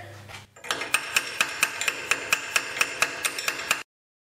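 A hammer taps a pipe held in a vise in a workshop: about a dozen sharp metallic strikes at a steady, even rhythm, close and ringing, then stopping abruptly.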